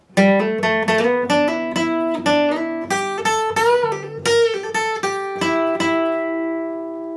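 A fast, fluid electric guitar lead with quick bends and slides, ending on a long sustained note that rings out.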